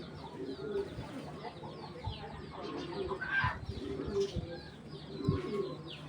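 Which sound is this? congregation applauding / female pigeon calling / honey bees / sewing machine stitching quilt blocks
female pigeon calling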